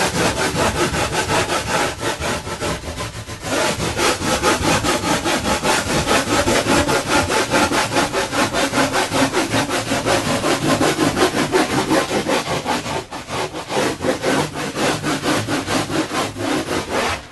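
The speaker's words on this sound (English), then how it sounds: "Then just take your rasp or sandpaper and just work this down a little bit." A rasp or sandpaper is worked back and forth along the rail of a handmade surfboard, giving loud, rhythmic, close-up scraping strokes that continue almost without pause, with one brief break partway through.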